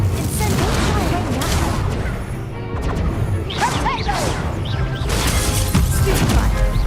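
Spell effects in a Hogwarts Legacy duel, including an Incendio fire spell: dense crashing, whooshing bursts and impacts layered over game music and a caster's shouts, loud and continuous throughout.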